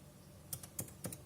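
Typing on an Irbis NB60 laptop keyboard, a handful of soft, close keystrokes tapped in a quick, uneven rhythm over a faint, quiet background.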